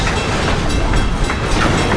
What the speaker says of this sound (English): The loads were making those old cross ties groan as they came across the road.